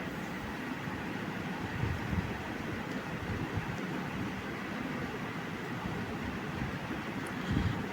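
Vanchinad Express approaching a village railway station in Kerala: a steady, fairly faint rumbling rail roar with a few soft thumps, continuous and distant-sounding, no voices over it.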